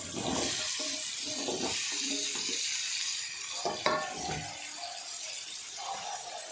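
Drumsticks sizzle in a pan with softened tomatoes, a close, steady frying hiss broken by scraping stirs and a few clinks, with no talk.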